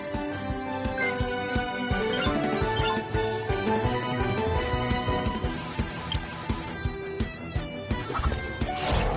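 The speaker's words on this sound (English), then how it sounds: "Was that a chicken?" Clucking and squawking of a chicken unleashed in a surprise attack in Cris Tales, a burst of fowl noises laid over busy rhythmic battle music with thumping beats.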